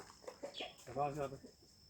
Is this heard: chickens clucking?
yes